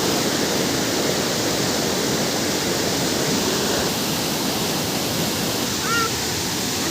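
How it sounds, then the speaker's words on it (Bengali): Rainy-season water rushes steadily past Panchalingeswar temple, a broad continuous roar of flowing water close by with no other sounds. "পঞ্চলিঙ্গেশ্বর মন্দির হয়ে জল আসছে, এখন জলের টানটা বেশি বৃষ্টির সময়।"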